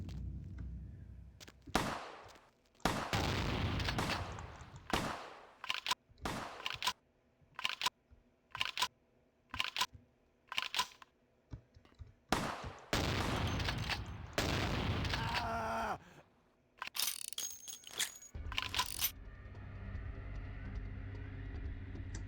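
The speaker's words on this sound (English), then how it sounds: "Who's shooting me?" Bursts of gunfire in a vampire action video game, loud and close, in ragged volleys with short gaps between them, followed by a quieter stretch of background game noise.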